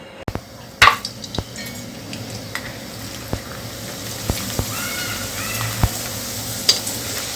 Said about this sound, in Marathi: हे मस्त असे ऊन दिलेले बटाट्याचे पापड आहेत, ते आपण आता तळून बघायचे आहेत.